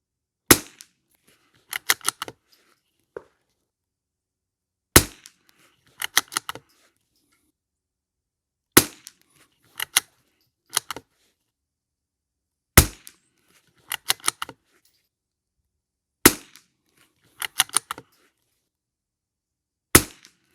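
A Savage MKII TR .22 rifle fires at the range, six sharp single cracks spaced several seconds apart, each followed by faint clicks of handling.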